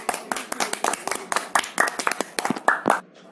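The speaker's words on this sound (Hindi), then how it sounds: "तेरे लिए तो तालियां हो जाइए" Cartoon applause made of several quick, irregular hand claps, close and moderately loud, with a short pause near the end.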